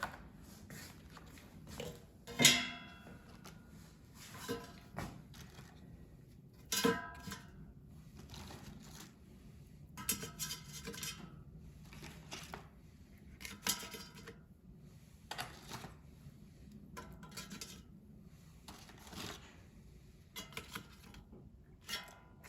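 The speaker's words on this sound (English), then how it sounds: "I will put frozen crab rangoon in the air fryer, so no need to defrost" Frozen crab rangoon are set into an air fryer basket, giving soft scattered taps and light clunks with a couple of sharper knocks, faint and close in a quiet room.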